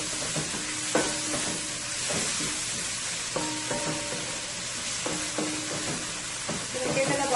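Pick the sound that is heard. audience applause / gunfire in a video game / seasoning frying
seasoning frying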